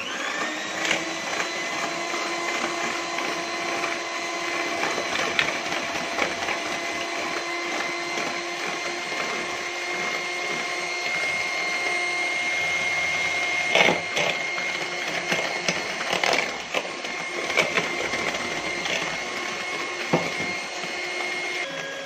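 An electric mixer whirs steadily and fairly loudly throughout, beating sugar gradually into cake batter for a strawberry cake, with a few brief clinks over the constant motor drone.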